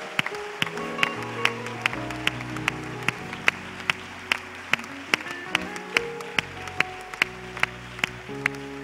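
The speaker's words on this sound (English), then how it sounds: "I'd like for you to give them a hand clap" Steady rhythmic hand clapping from a church congregation, sharp regular claps over sustained organ or keyboard chords, as if clapping along to music in honor of the church's supporters.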